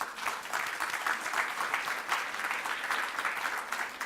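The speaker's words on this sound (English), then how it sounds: "In 2012, Reverend, you became the first female Anglican bishop in Africa. I think we really must applaud that." Applause from the audience honouring the first female Anglican bishop in Africa: a fairly quiet, steady patter of many hands with faint pulses, and no talking on top.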